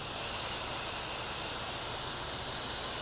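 A softwash sprayer rinses a heavily oxidized house wall at low pressure, giving a steady, even hiss of spray that runs unbroken from start to finish with no voices.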